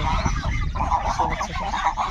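A flock of farmyard geese honks nearby in repeated nasal calls, with a person's voice mixed in among the birds.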